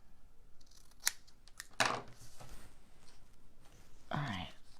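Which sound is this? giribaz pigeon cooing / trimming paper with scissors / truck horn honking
trimming paper with scissors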